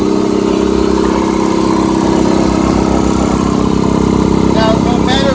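An air compressor runs with its fan spinning, giving a steady, close, droning mechanical hum with a constant tone that holds throughout.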